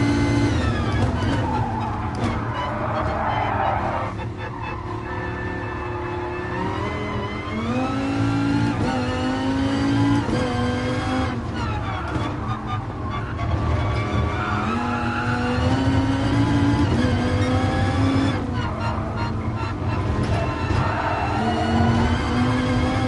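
Race car engine in the GT Sport video game lapping a track, loud and continuous, revving up and down through the gears with tyre squeal at corners, no talk over it.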